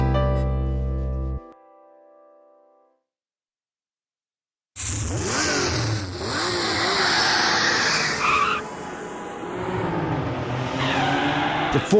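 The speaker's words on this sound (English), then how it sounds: "The four-wheel drive swerved all over the road, snaking this way and that, screeching tyres, revving engine" A four-wheel drive snakes and swerves along a road, tyres screeching over a revving engine, loud and close after a short tonal passage and a silent gap.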